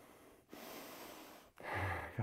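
Someone breathes heavily and raggedly after a set of squat jumps during a workout, with loud, close snorting inhales and exhales in uneven bursts, alone without talk.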